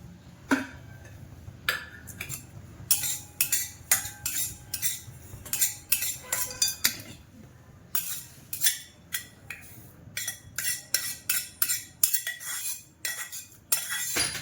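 A metal spatula scrapes and clinks against a hot kadhai while pickle spices for raw mango pickle are lightly dry-roasted, giving an irregular series of sharp, close clatters over a low hiss.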